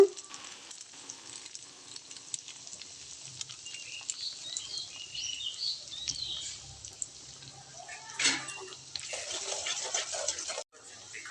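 Ginger and garlic paste frying in butter for butter chicken gives a soft, steady sizzle with faint crackles. A brief louder spatter comes near the end, and there is no talk.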